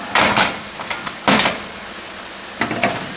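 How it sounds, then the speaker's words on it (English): A frying pan scrapes and clatters on a stovetop in three short, sharp bursts while oil sizzles quietly in the background. "I'll just move the pan handle here for a minute"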